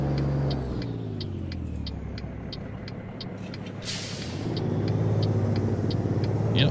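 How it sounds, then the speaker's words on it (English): A Kenworth 521 truck in American Truck Simulator rumbles with a steady low engine drone, a hiss of air burst near the middle, and faint rhythmic ticking, the engine swelling louder toward the end. "Yeah, the sounds are really good in this truck."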